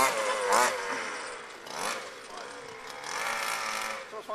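An FG Monster Beetle Pro radio-controlled car's small petrol engine running, buzzing and revving in uneven bursts close by while people talk over it.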